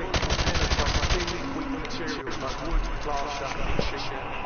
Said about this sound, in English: Now, shoot each target while aiming down his sights.